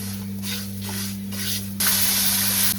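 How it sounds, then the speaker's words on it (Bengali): Semolina fries in ghee in a home kitchen pan, producing a soft hiss with a few stirring swishes that jumps into a louder, brighter sizzle near the end. "ঘি দিয়ে প্রথমেই মা সুজিটাকে ভেজে নিচ্ছে"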